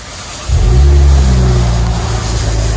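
A Chevy Camaro with a 3.6L V6 and a loud aftermarket muffler exhaust starts up: after a short quiet moment the engine barks and revs up close, then holds a loud, deep, rumbling idle.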